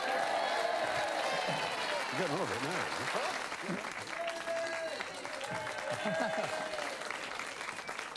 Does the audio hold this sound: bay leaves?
no